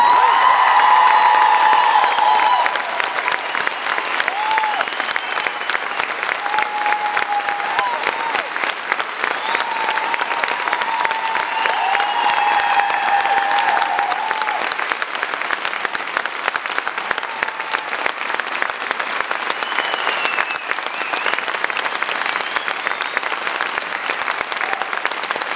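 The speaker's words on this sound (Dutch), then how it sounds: "En dat verdient een oorverdoverend applaus." A theatre audience at the final performance of the musical Petticoat gives a loud, dense, sustained ovation, with whoops, cheers and whistles rising over the applause throughout.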